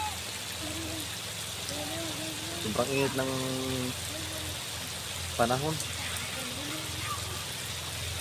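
Rain brought by a low-pressure system on Burias Island hisses steadily underneath someone talking intermittently nearby.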